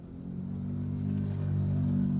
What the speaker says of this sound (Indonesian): tuh, motor dengan knalpot ngebrong, kedengeran di dalam kabin juga tipis banget suaranya.